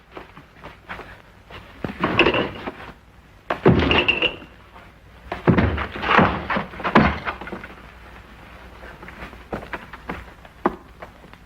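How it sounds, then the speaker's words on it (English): A door is forced open in a radio drama: heavy thuds and slamming impacts come in bursts, with scuffling movement between them. "Force the door open."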